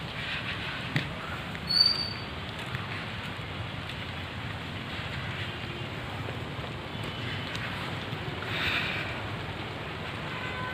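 Heavy rain pouring at a hilltop temple near Bhubaneswar, a steady dense hiss of rainfall with some wind buffeting the microphone, one brief louder gust or thump early on, continuous and fairly close.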